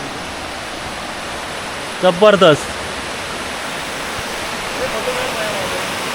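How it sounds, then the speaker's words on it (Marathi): A river flows and gurgles beneath a small bridge near a coconut and areca grove, a steady rushing wash filling the whole stretch while a man briefly exclaims over it partway through. "खळखळ खळखळ वाहणारी नदी आणि हा छोटासा पूल"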